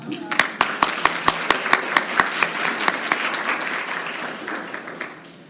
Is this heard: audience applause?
yes